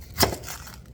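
A knife slices through the end of a Vidalia onion in a single crisp cut, a short close crunch followed by faint handling noise.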